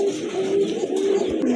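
A large pigeon from a pair coos in a low, steady rolling call, close and moderately loud, lasting about a second and a half without speech.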